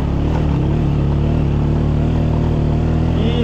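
Motorcycle engine droning steadily and close throughout while riding a rocky mountain road in Pakistan, with a continuous low rumble and faint rattle, no talking.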